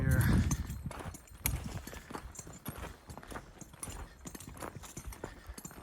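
Hooves clip-clop on the ground in an irregular walking rhythm, with a voice talking over them and some outdoor rustling.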